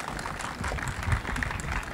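A crowd at a stand-up comedy show applauds to welcome a comedian onto the stage, a dense continuous clapping that stays loud and even throughout, without talk.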